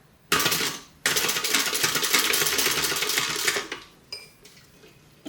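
A sewing machine runs in two close bursts, basting a zipper onto a crossbody bag, its rapid needle chatter loud and steady, followed by a few short stitches.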